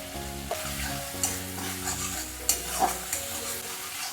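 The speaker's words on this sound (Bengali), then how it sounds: "জিরে বাটাটা দিয়ে এটা কিন্তু একটু ভালো করে কষিয়ে নিচ্ছি" Cumin paste being sautéed in a pan for a Bengali fish curry, a loud close sizzle with repeated stirring and scraping strokes and a few sharp clinks, no speech.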